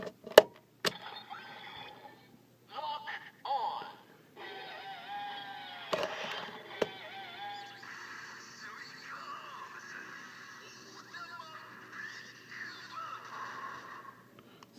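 Kamen Rider Gaim capsule toy Lock Seed with a blood orange faceplate plays its electronic sound effects: a burst of synthesized announcer-style voice and musical jingle through a small tinny speaker, with sharp clicks and bursts throughout.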